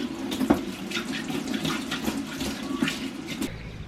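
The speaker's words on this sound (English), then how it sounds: "Then I'm gonna immediately wash my hands and this tool with a bunch of soapy hot water" Hot soapy water running from a tap while hands and a garden tool are washed after touching apple trees: a steady splashing flow, close by, with occasional clunks and sloshes and no talk.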